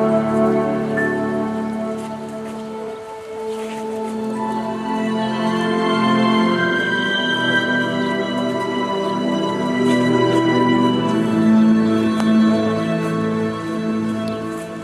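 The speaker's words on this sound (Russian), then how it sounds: "сегодня в Ахтубинске дождь и прохладно" Rain falls steadily in Akhtubinsk on a cool day, a constant pattering hiss on surfaces with no breaks, mixed with faint tonal background sounds.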